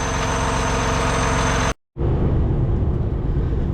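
A serviced car's engine idles steadily while warming itself up, a constant low drone that cuts out briefly and then resumes at a similar level.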